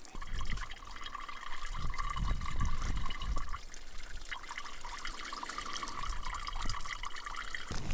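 Water flows and splashes in a steady, continuous rush with a few louder gurgling surges, heard fairly close throughout.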